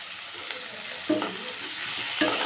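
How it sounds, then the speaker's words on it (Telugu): Onions and tomatoes sauté in a pan with a steady, close sizzle, broken by a few scraping stirs. No one speaks. "చూడండి ఇలా మగ్గాక టమోటో కూడా వేసేసి బాగా మగ్గించుకోవాలండి."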